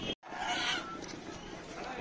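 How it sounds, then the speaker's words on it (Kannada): Chickens clucking at a busy Friday morning livestock market in Channagiri, Karnataka: brief nearby clucks over a dense crowd murmur, with a short dropout at the start. "ಕೋಳಿ ನೋಡಿ, ಕೋಳಿ ಮಾರ್ಕೆಟ್"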